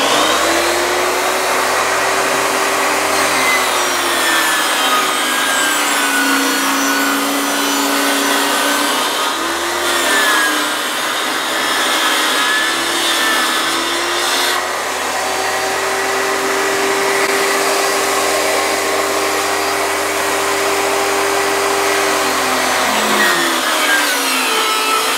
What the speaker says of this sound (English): the length of the handle I'm going to cut on my table saw